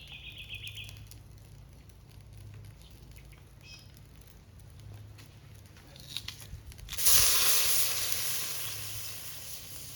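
Garlic hits hot fat in a camp oven and bursts into a loud, broad sizzle partway through, then keeps frying steadily near at hand after a quieter stretch of faint crackle and outdoor background.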